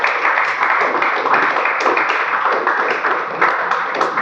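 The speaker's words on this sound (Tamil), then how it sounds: "இந்த பேக்கை கொடுத்த ரோட்டரி கிளப் ஆஃப் பிளாசம்ஸ் அவங்களுக்கு நீங்கள் கைத்தட்டி உற்சாகப்படுத்தமாக கேட்டுக்கொள்ளுங்க" An audience applauding at a Rotary Club of Nagercoil Blossoms sports function, a dense, steady roar of many hands clapping close by, sustained throughout without pause.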